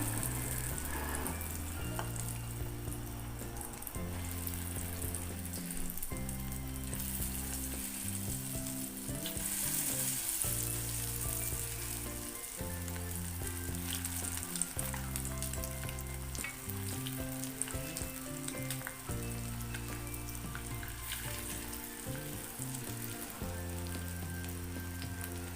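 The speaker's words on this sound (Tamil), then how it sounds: "எண்ணெய் நல்லா சூடானதும் ஒன்றொன்னா போட்டு ஃப்ரை பண்ணி எடுக்க போகிறேன்." Chicken pieces for honey chicken deep-fry in hot oil, a dense, steady bubbling sizzle with occasional pops, fairly quiet and running beneath background music.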